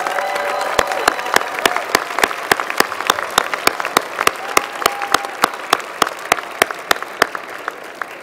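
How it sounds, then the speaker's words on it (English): Audience at a winter engineering school commencement ceremony applauding steadily, a full, even wash of many hands clapping with sharp individual claps standing out throughout, with no talking over it. "Please give them a round of applause."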